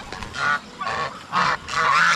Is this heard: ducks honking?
yes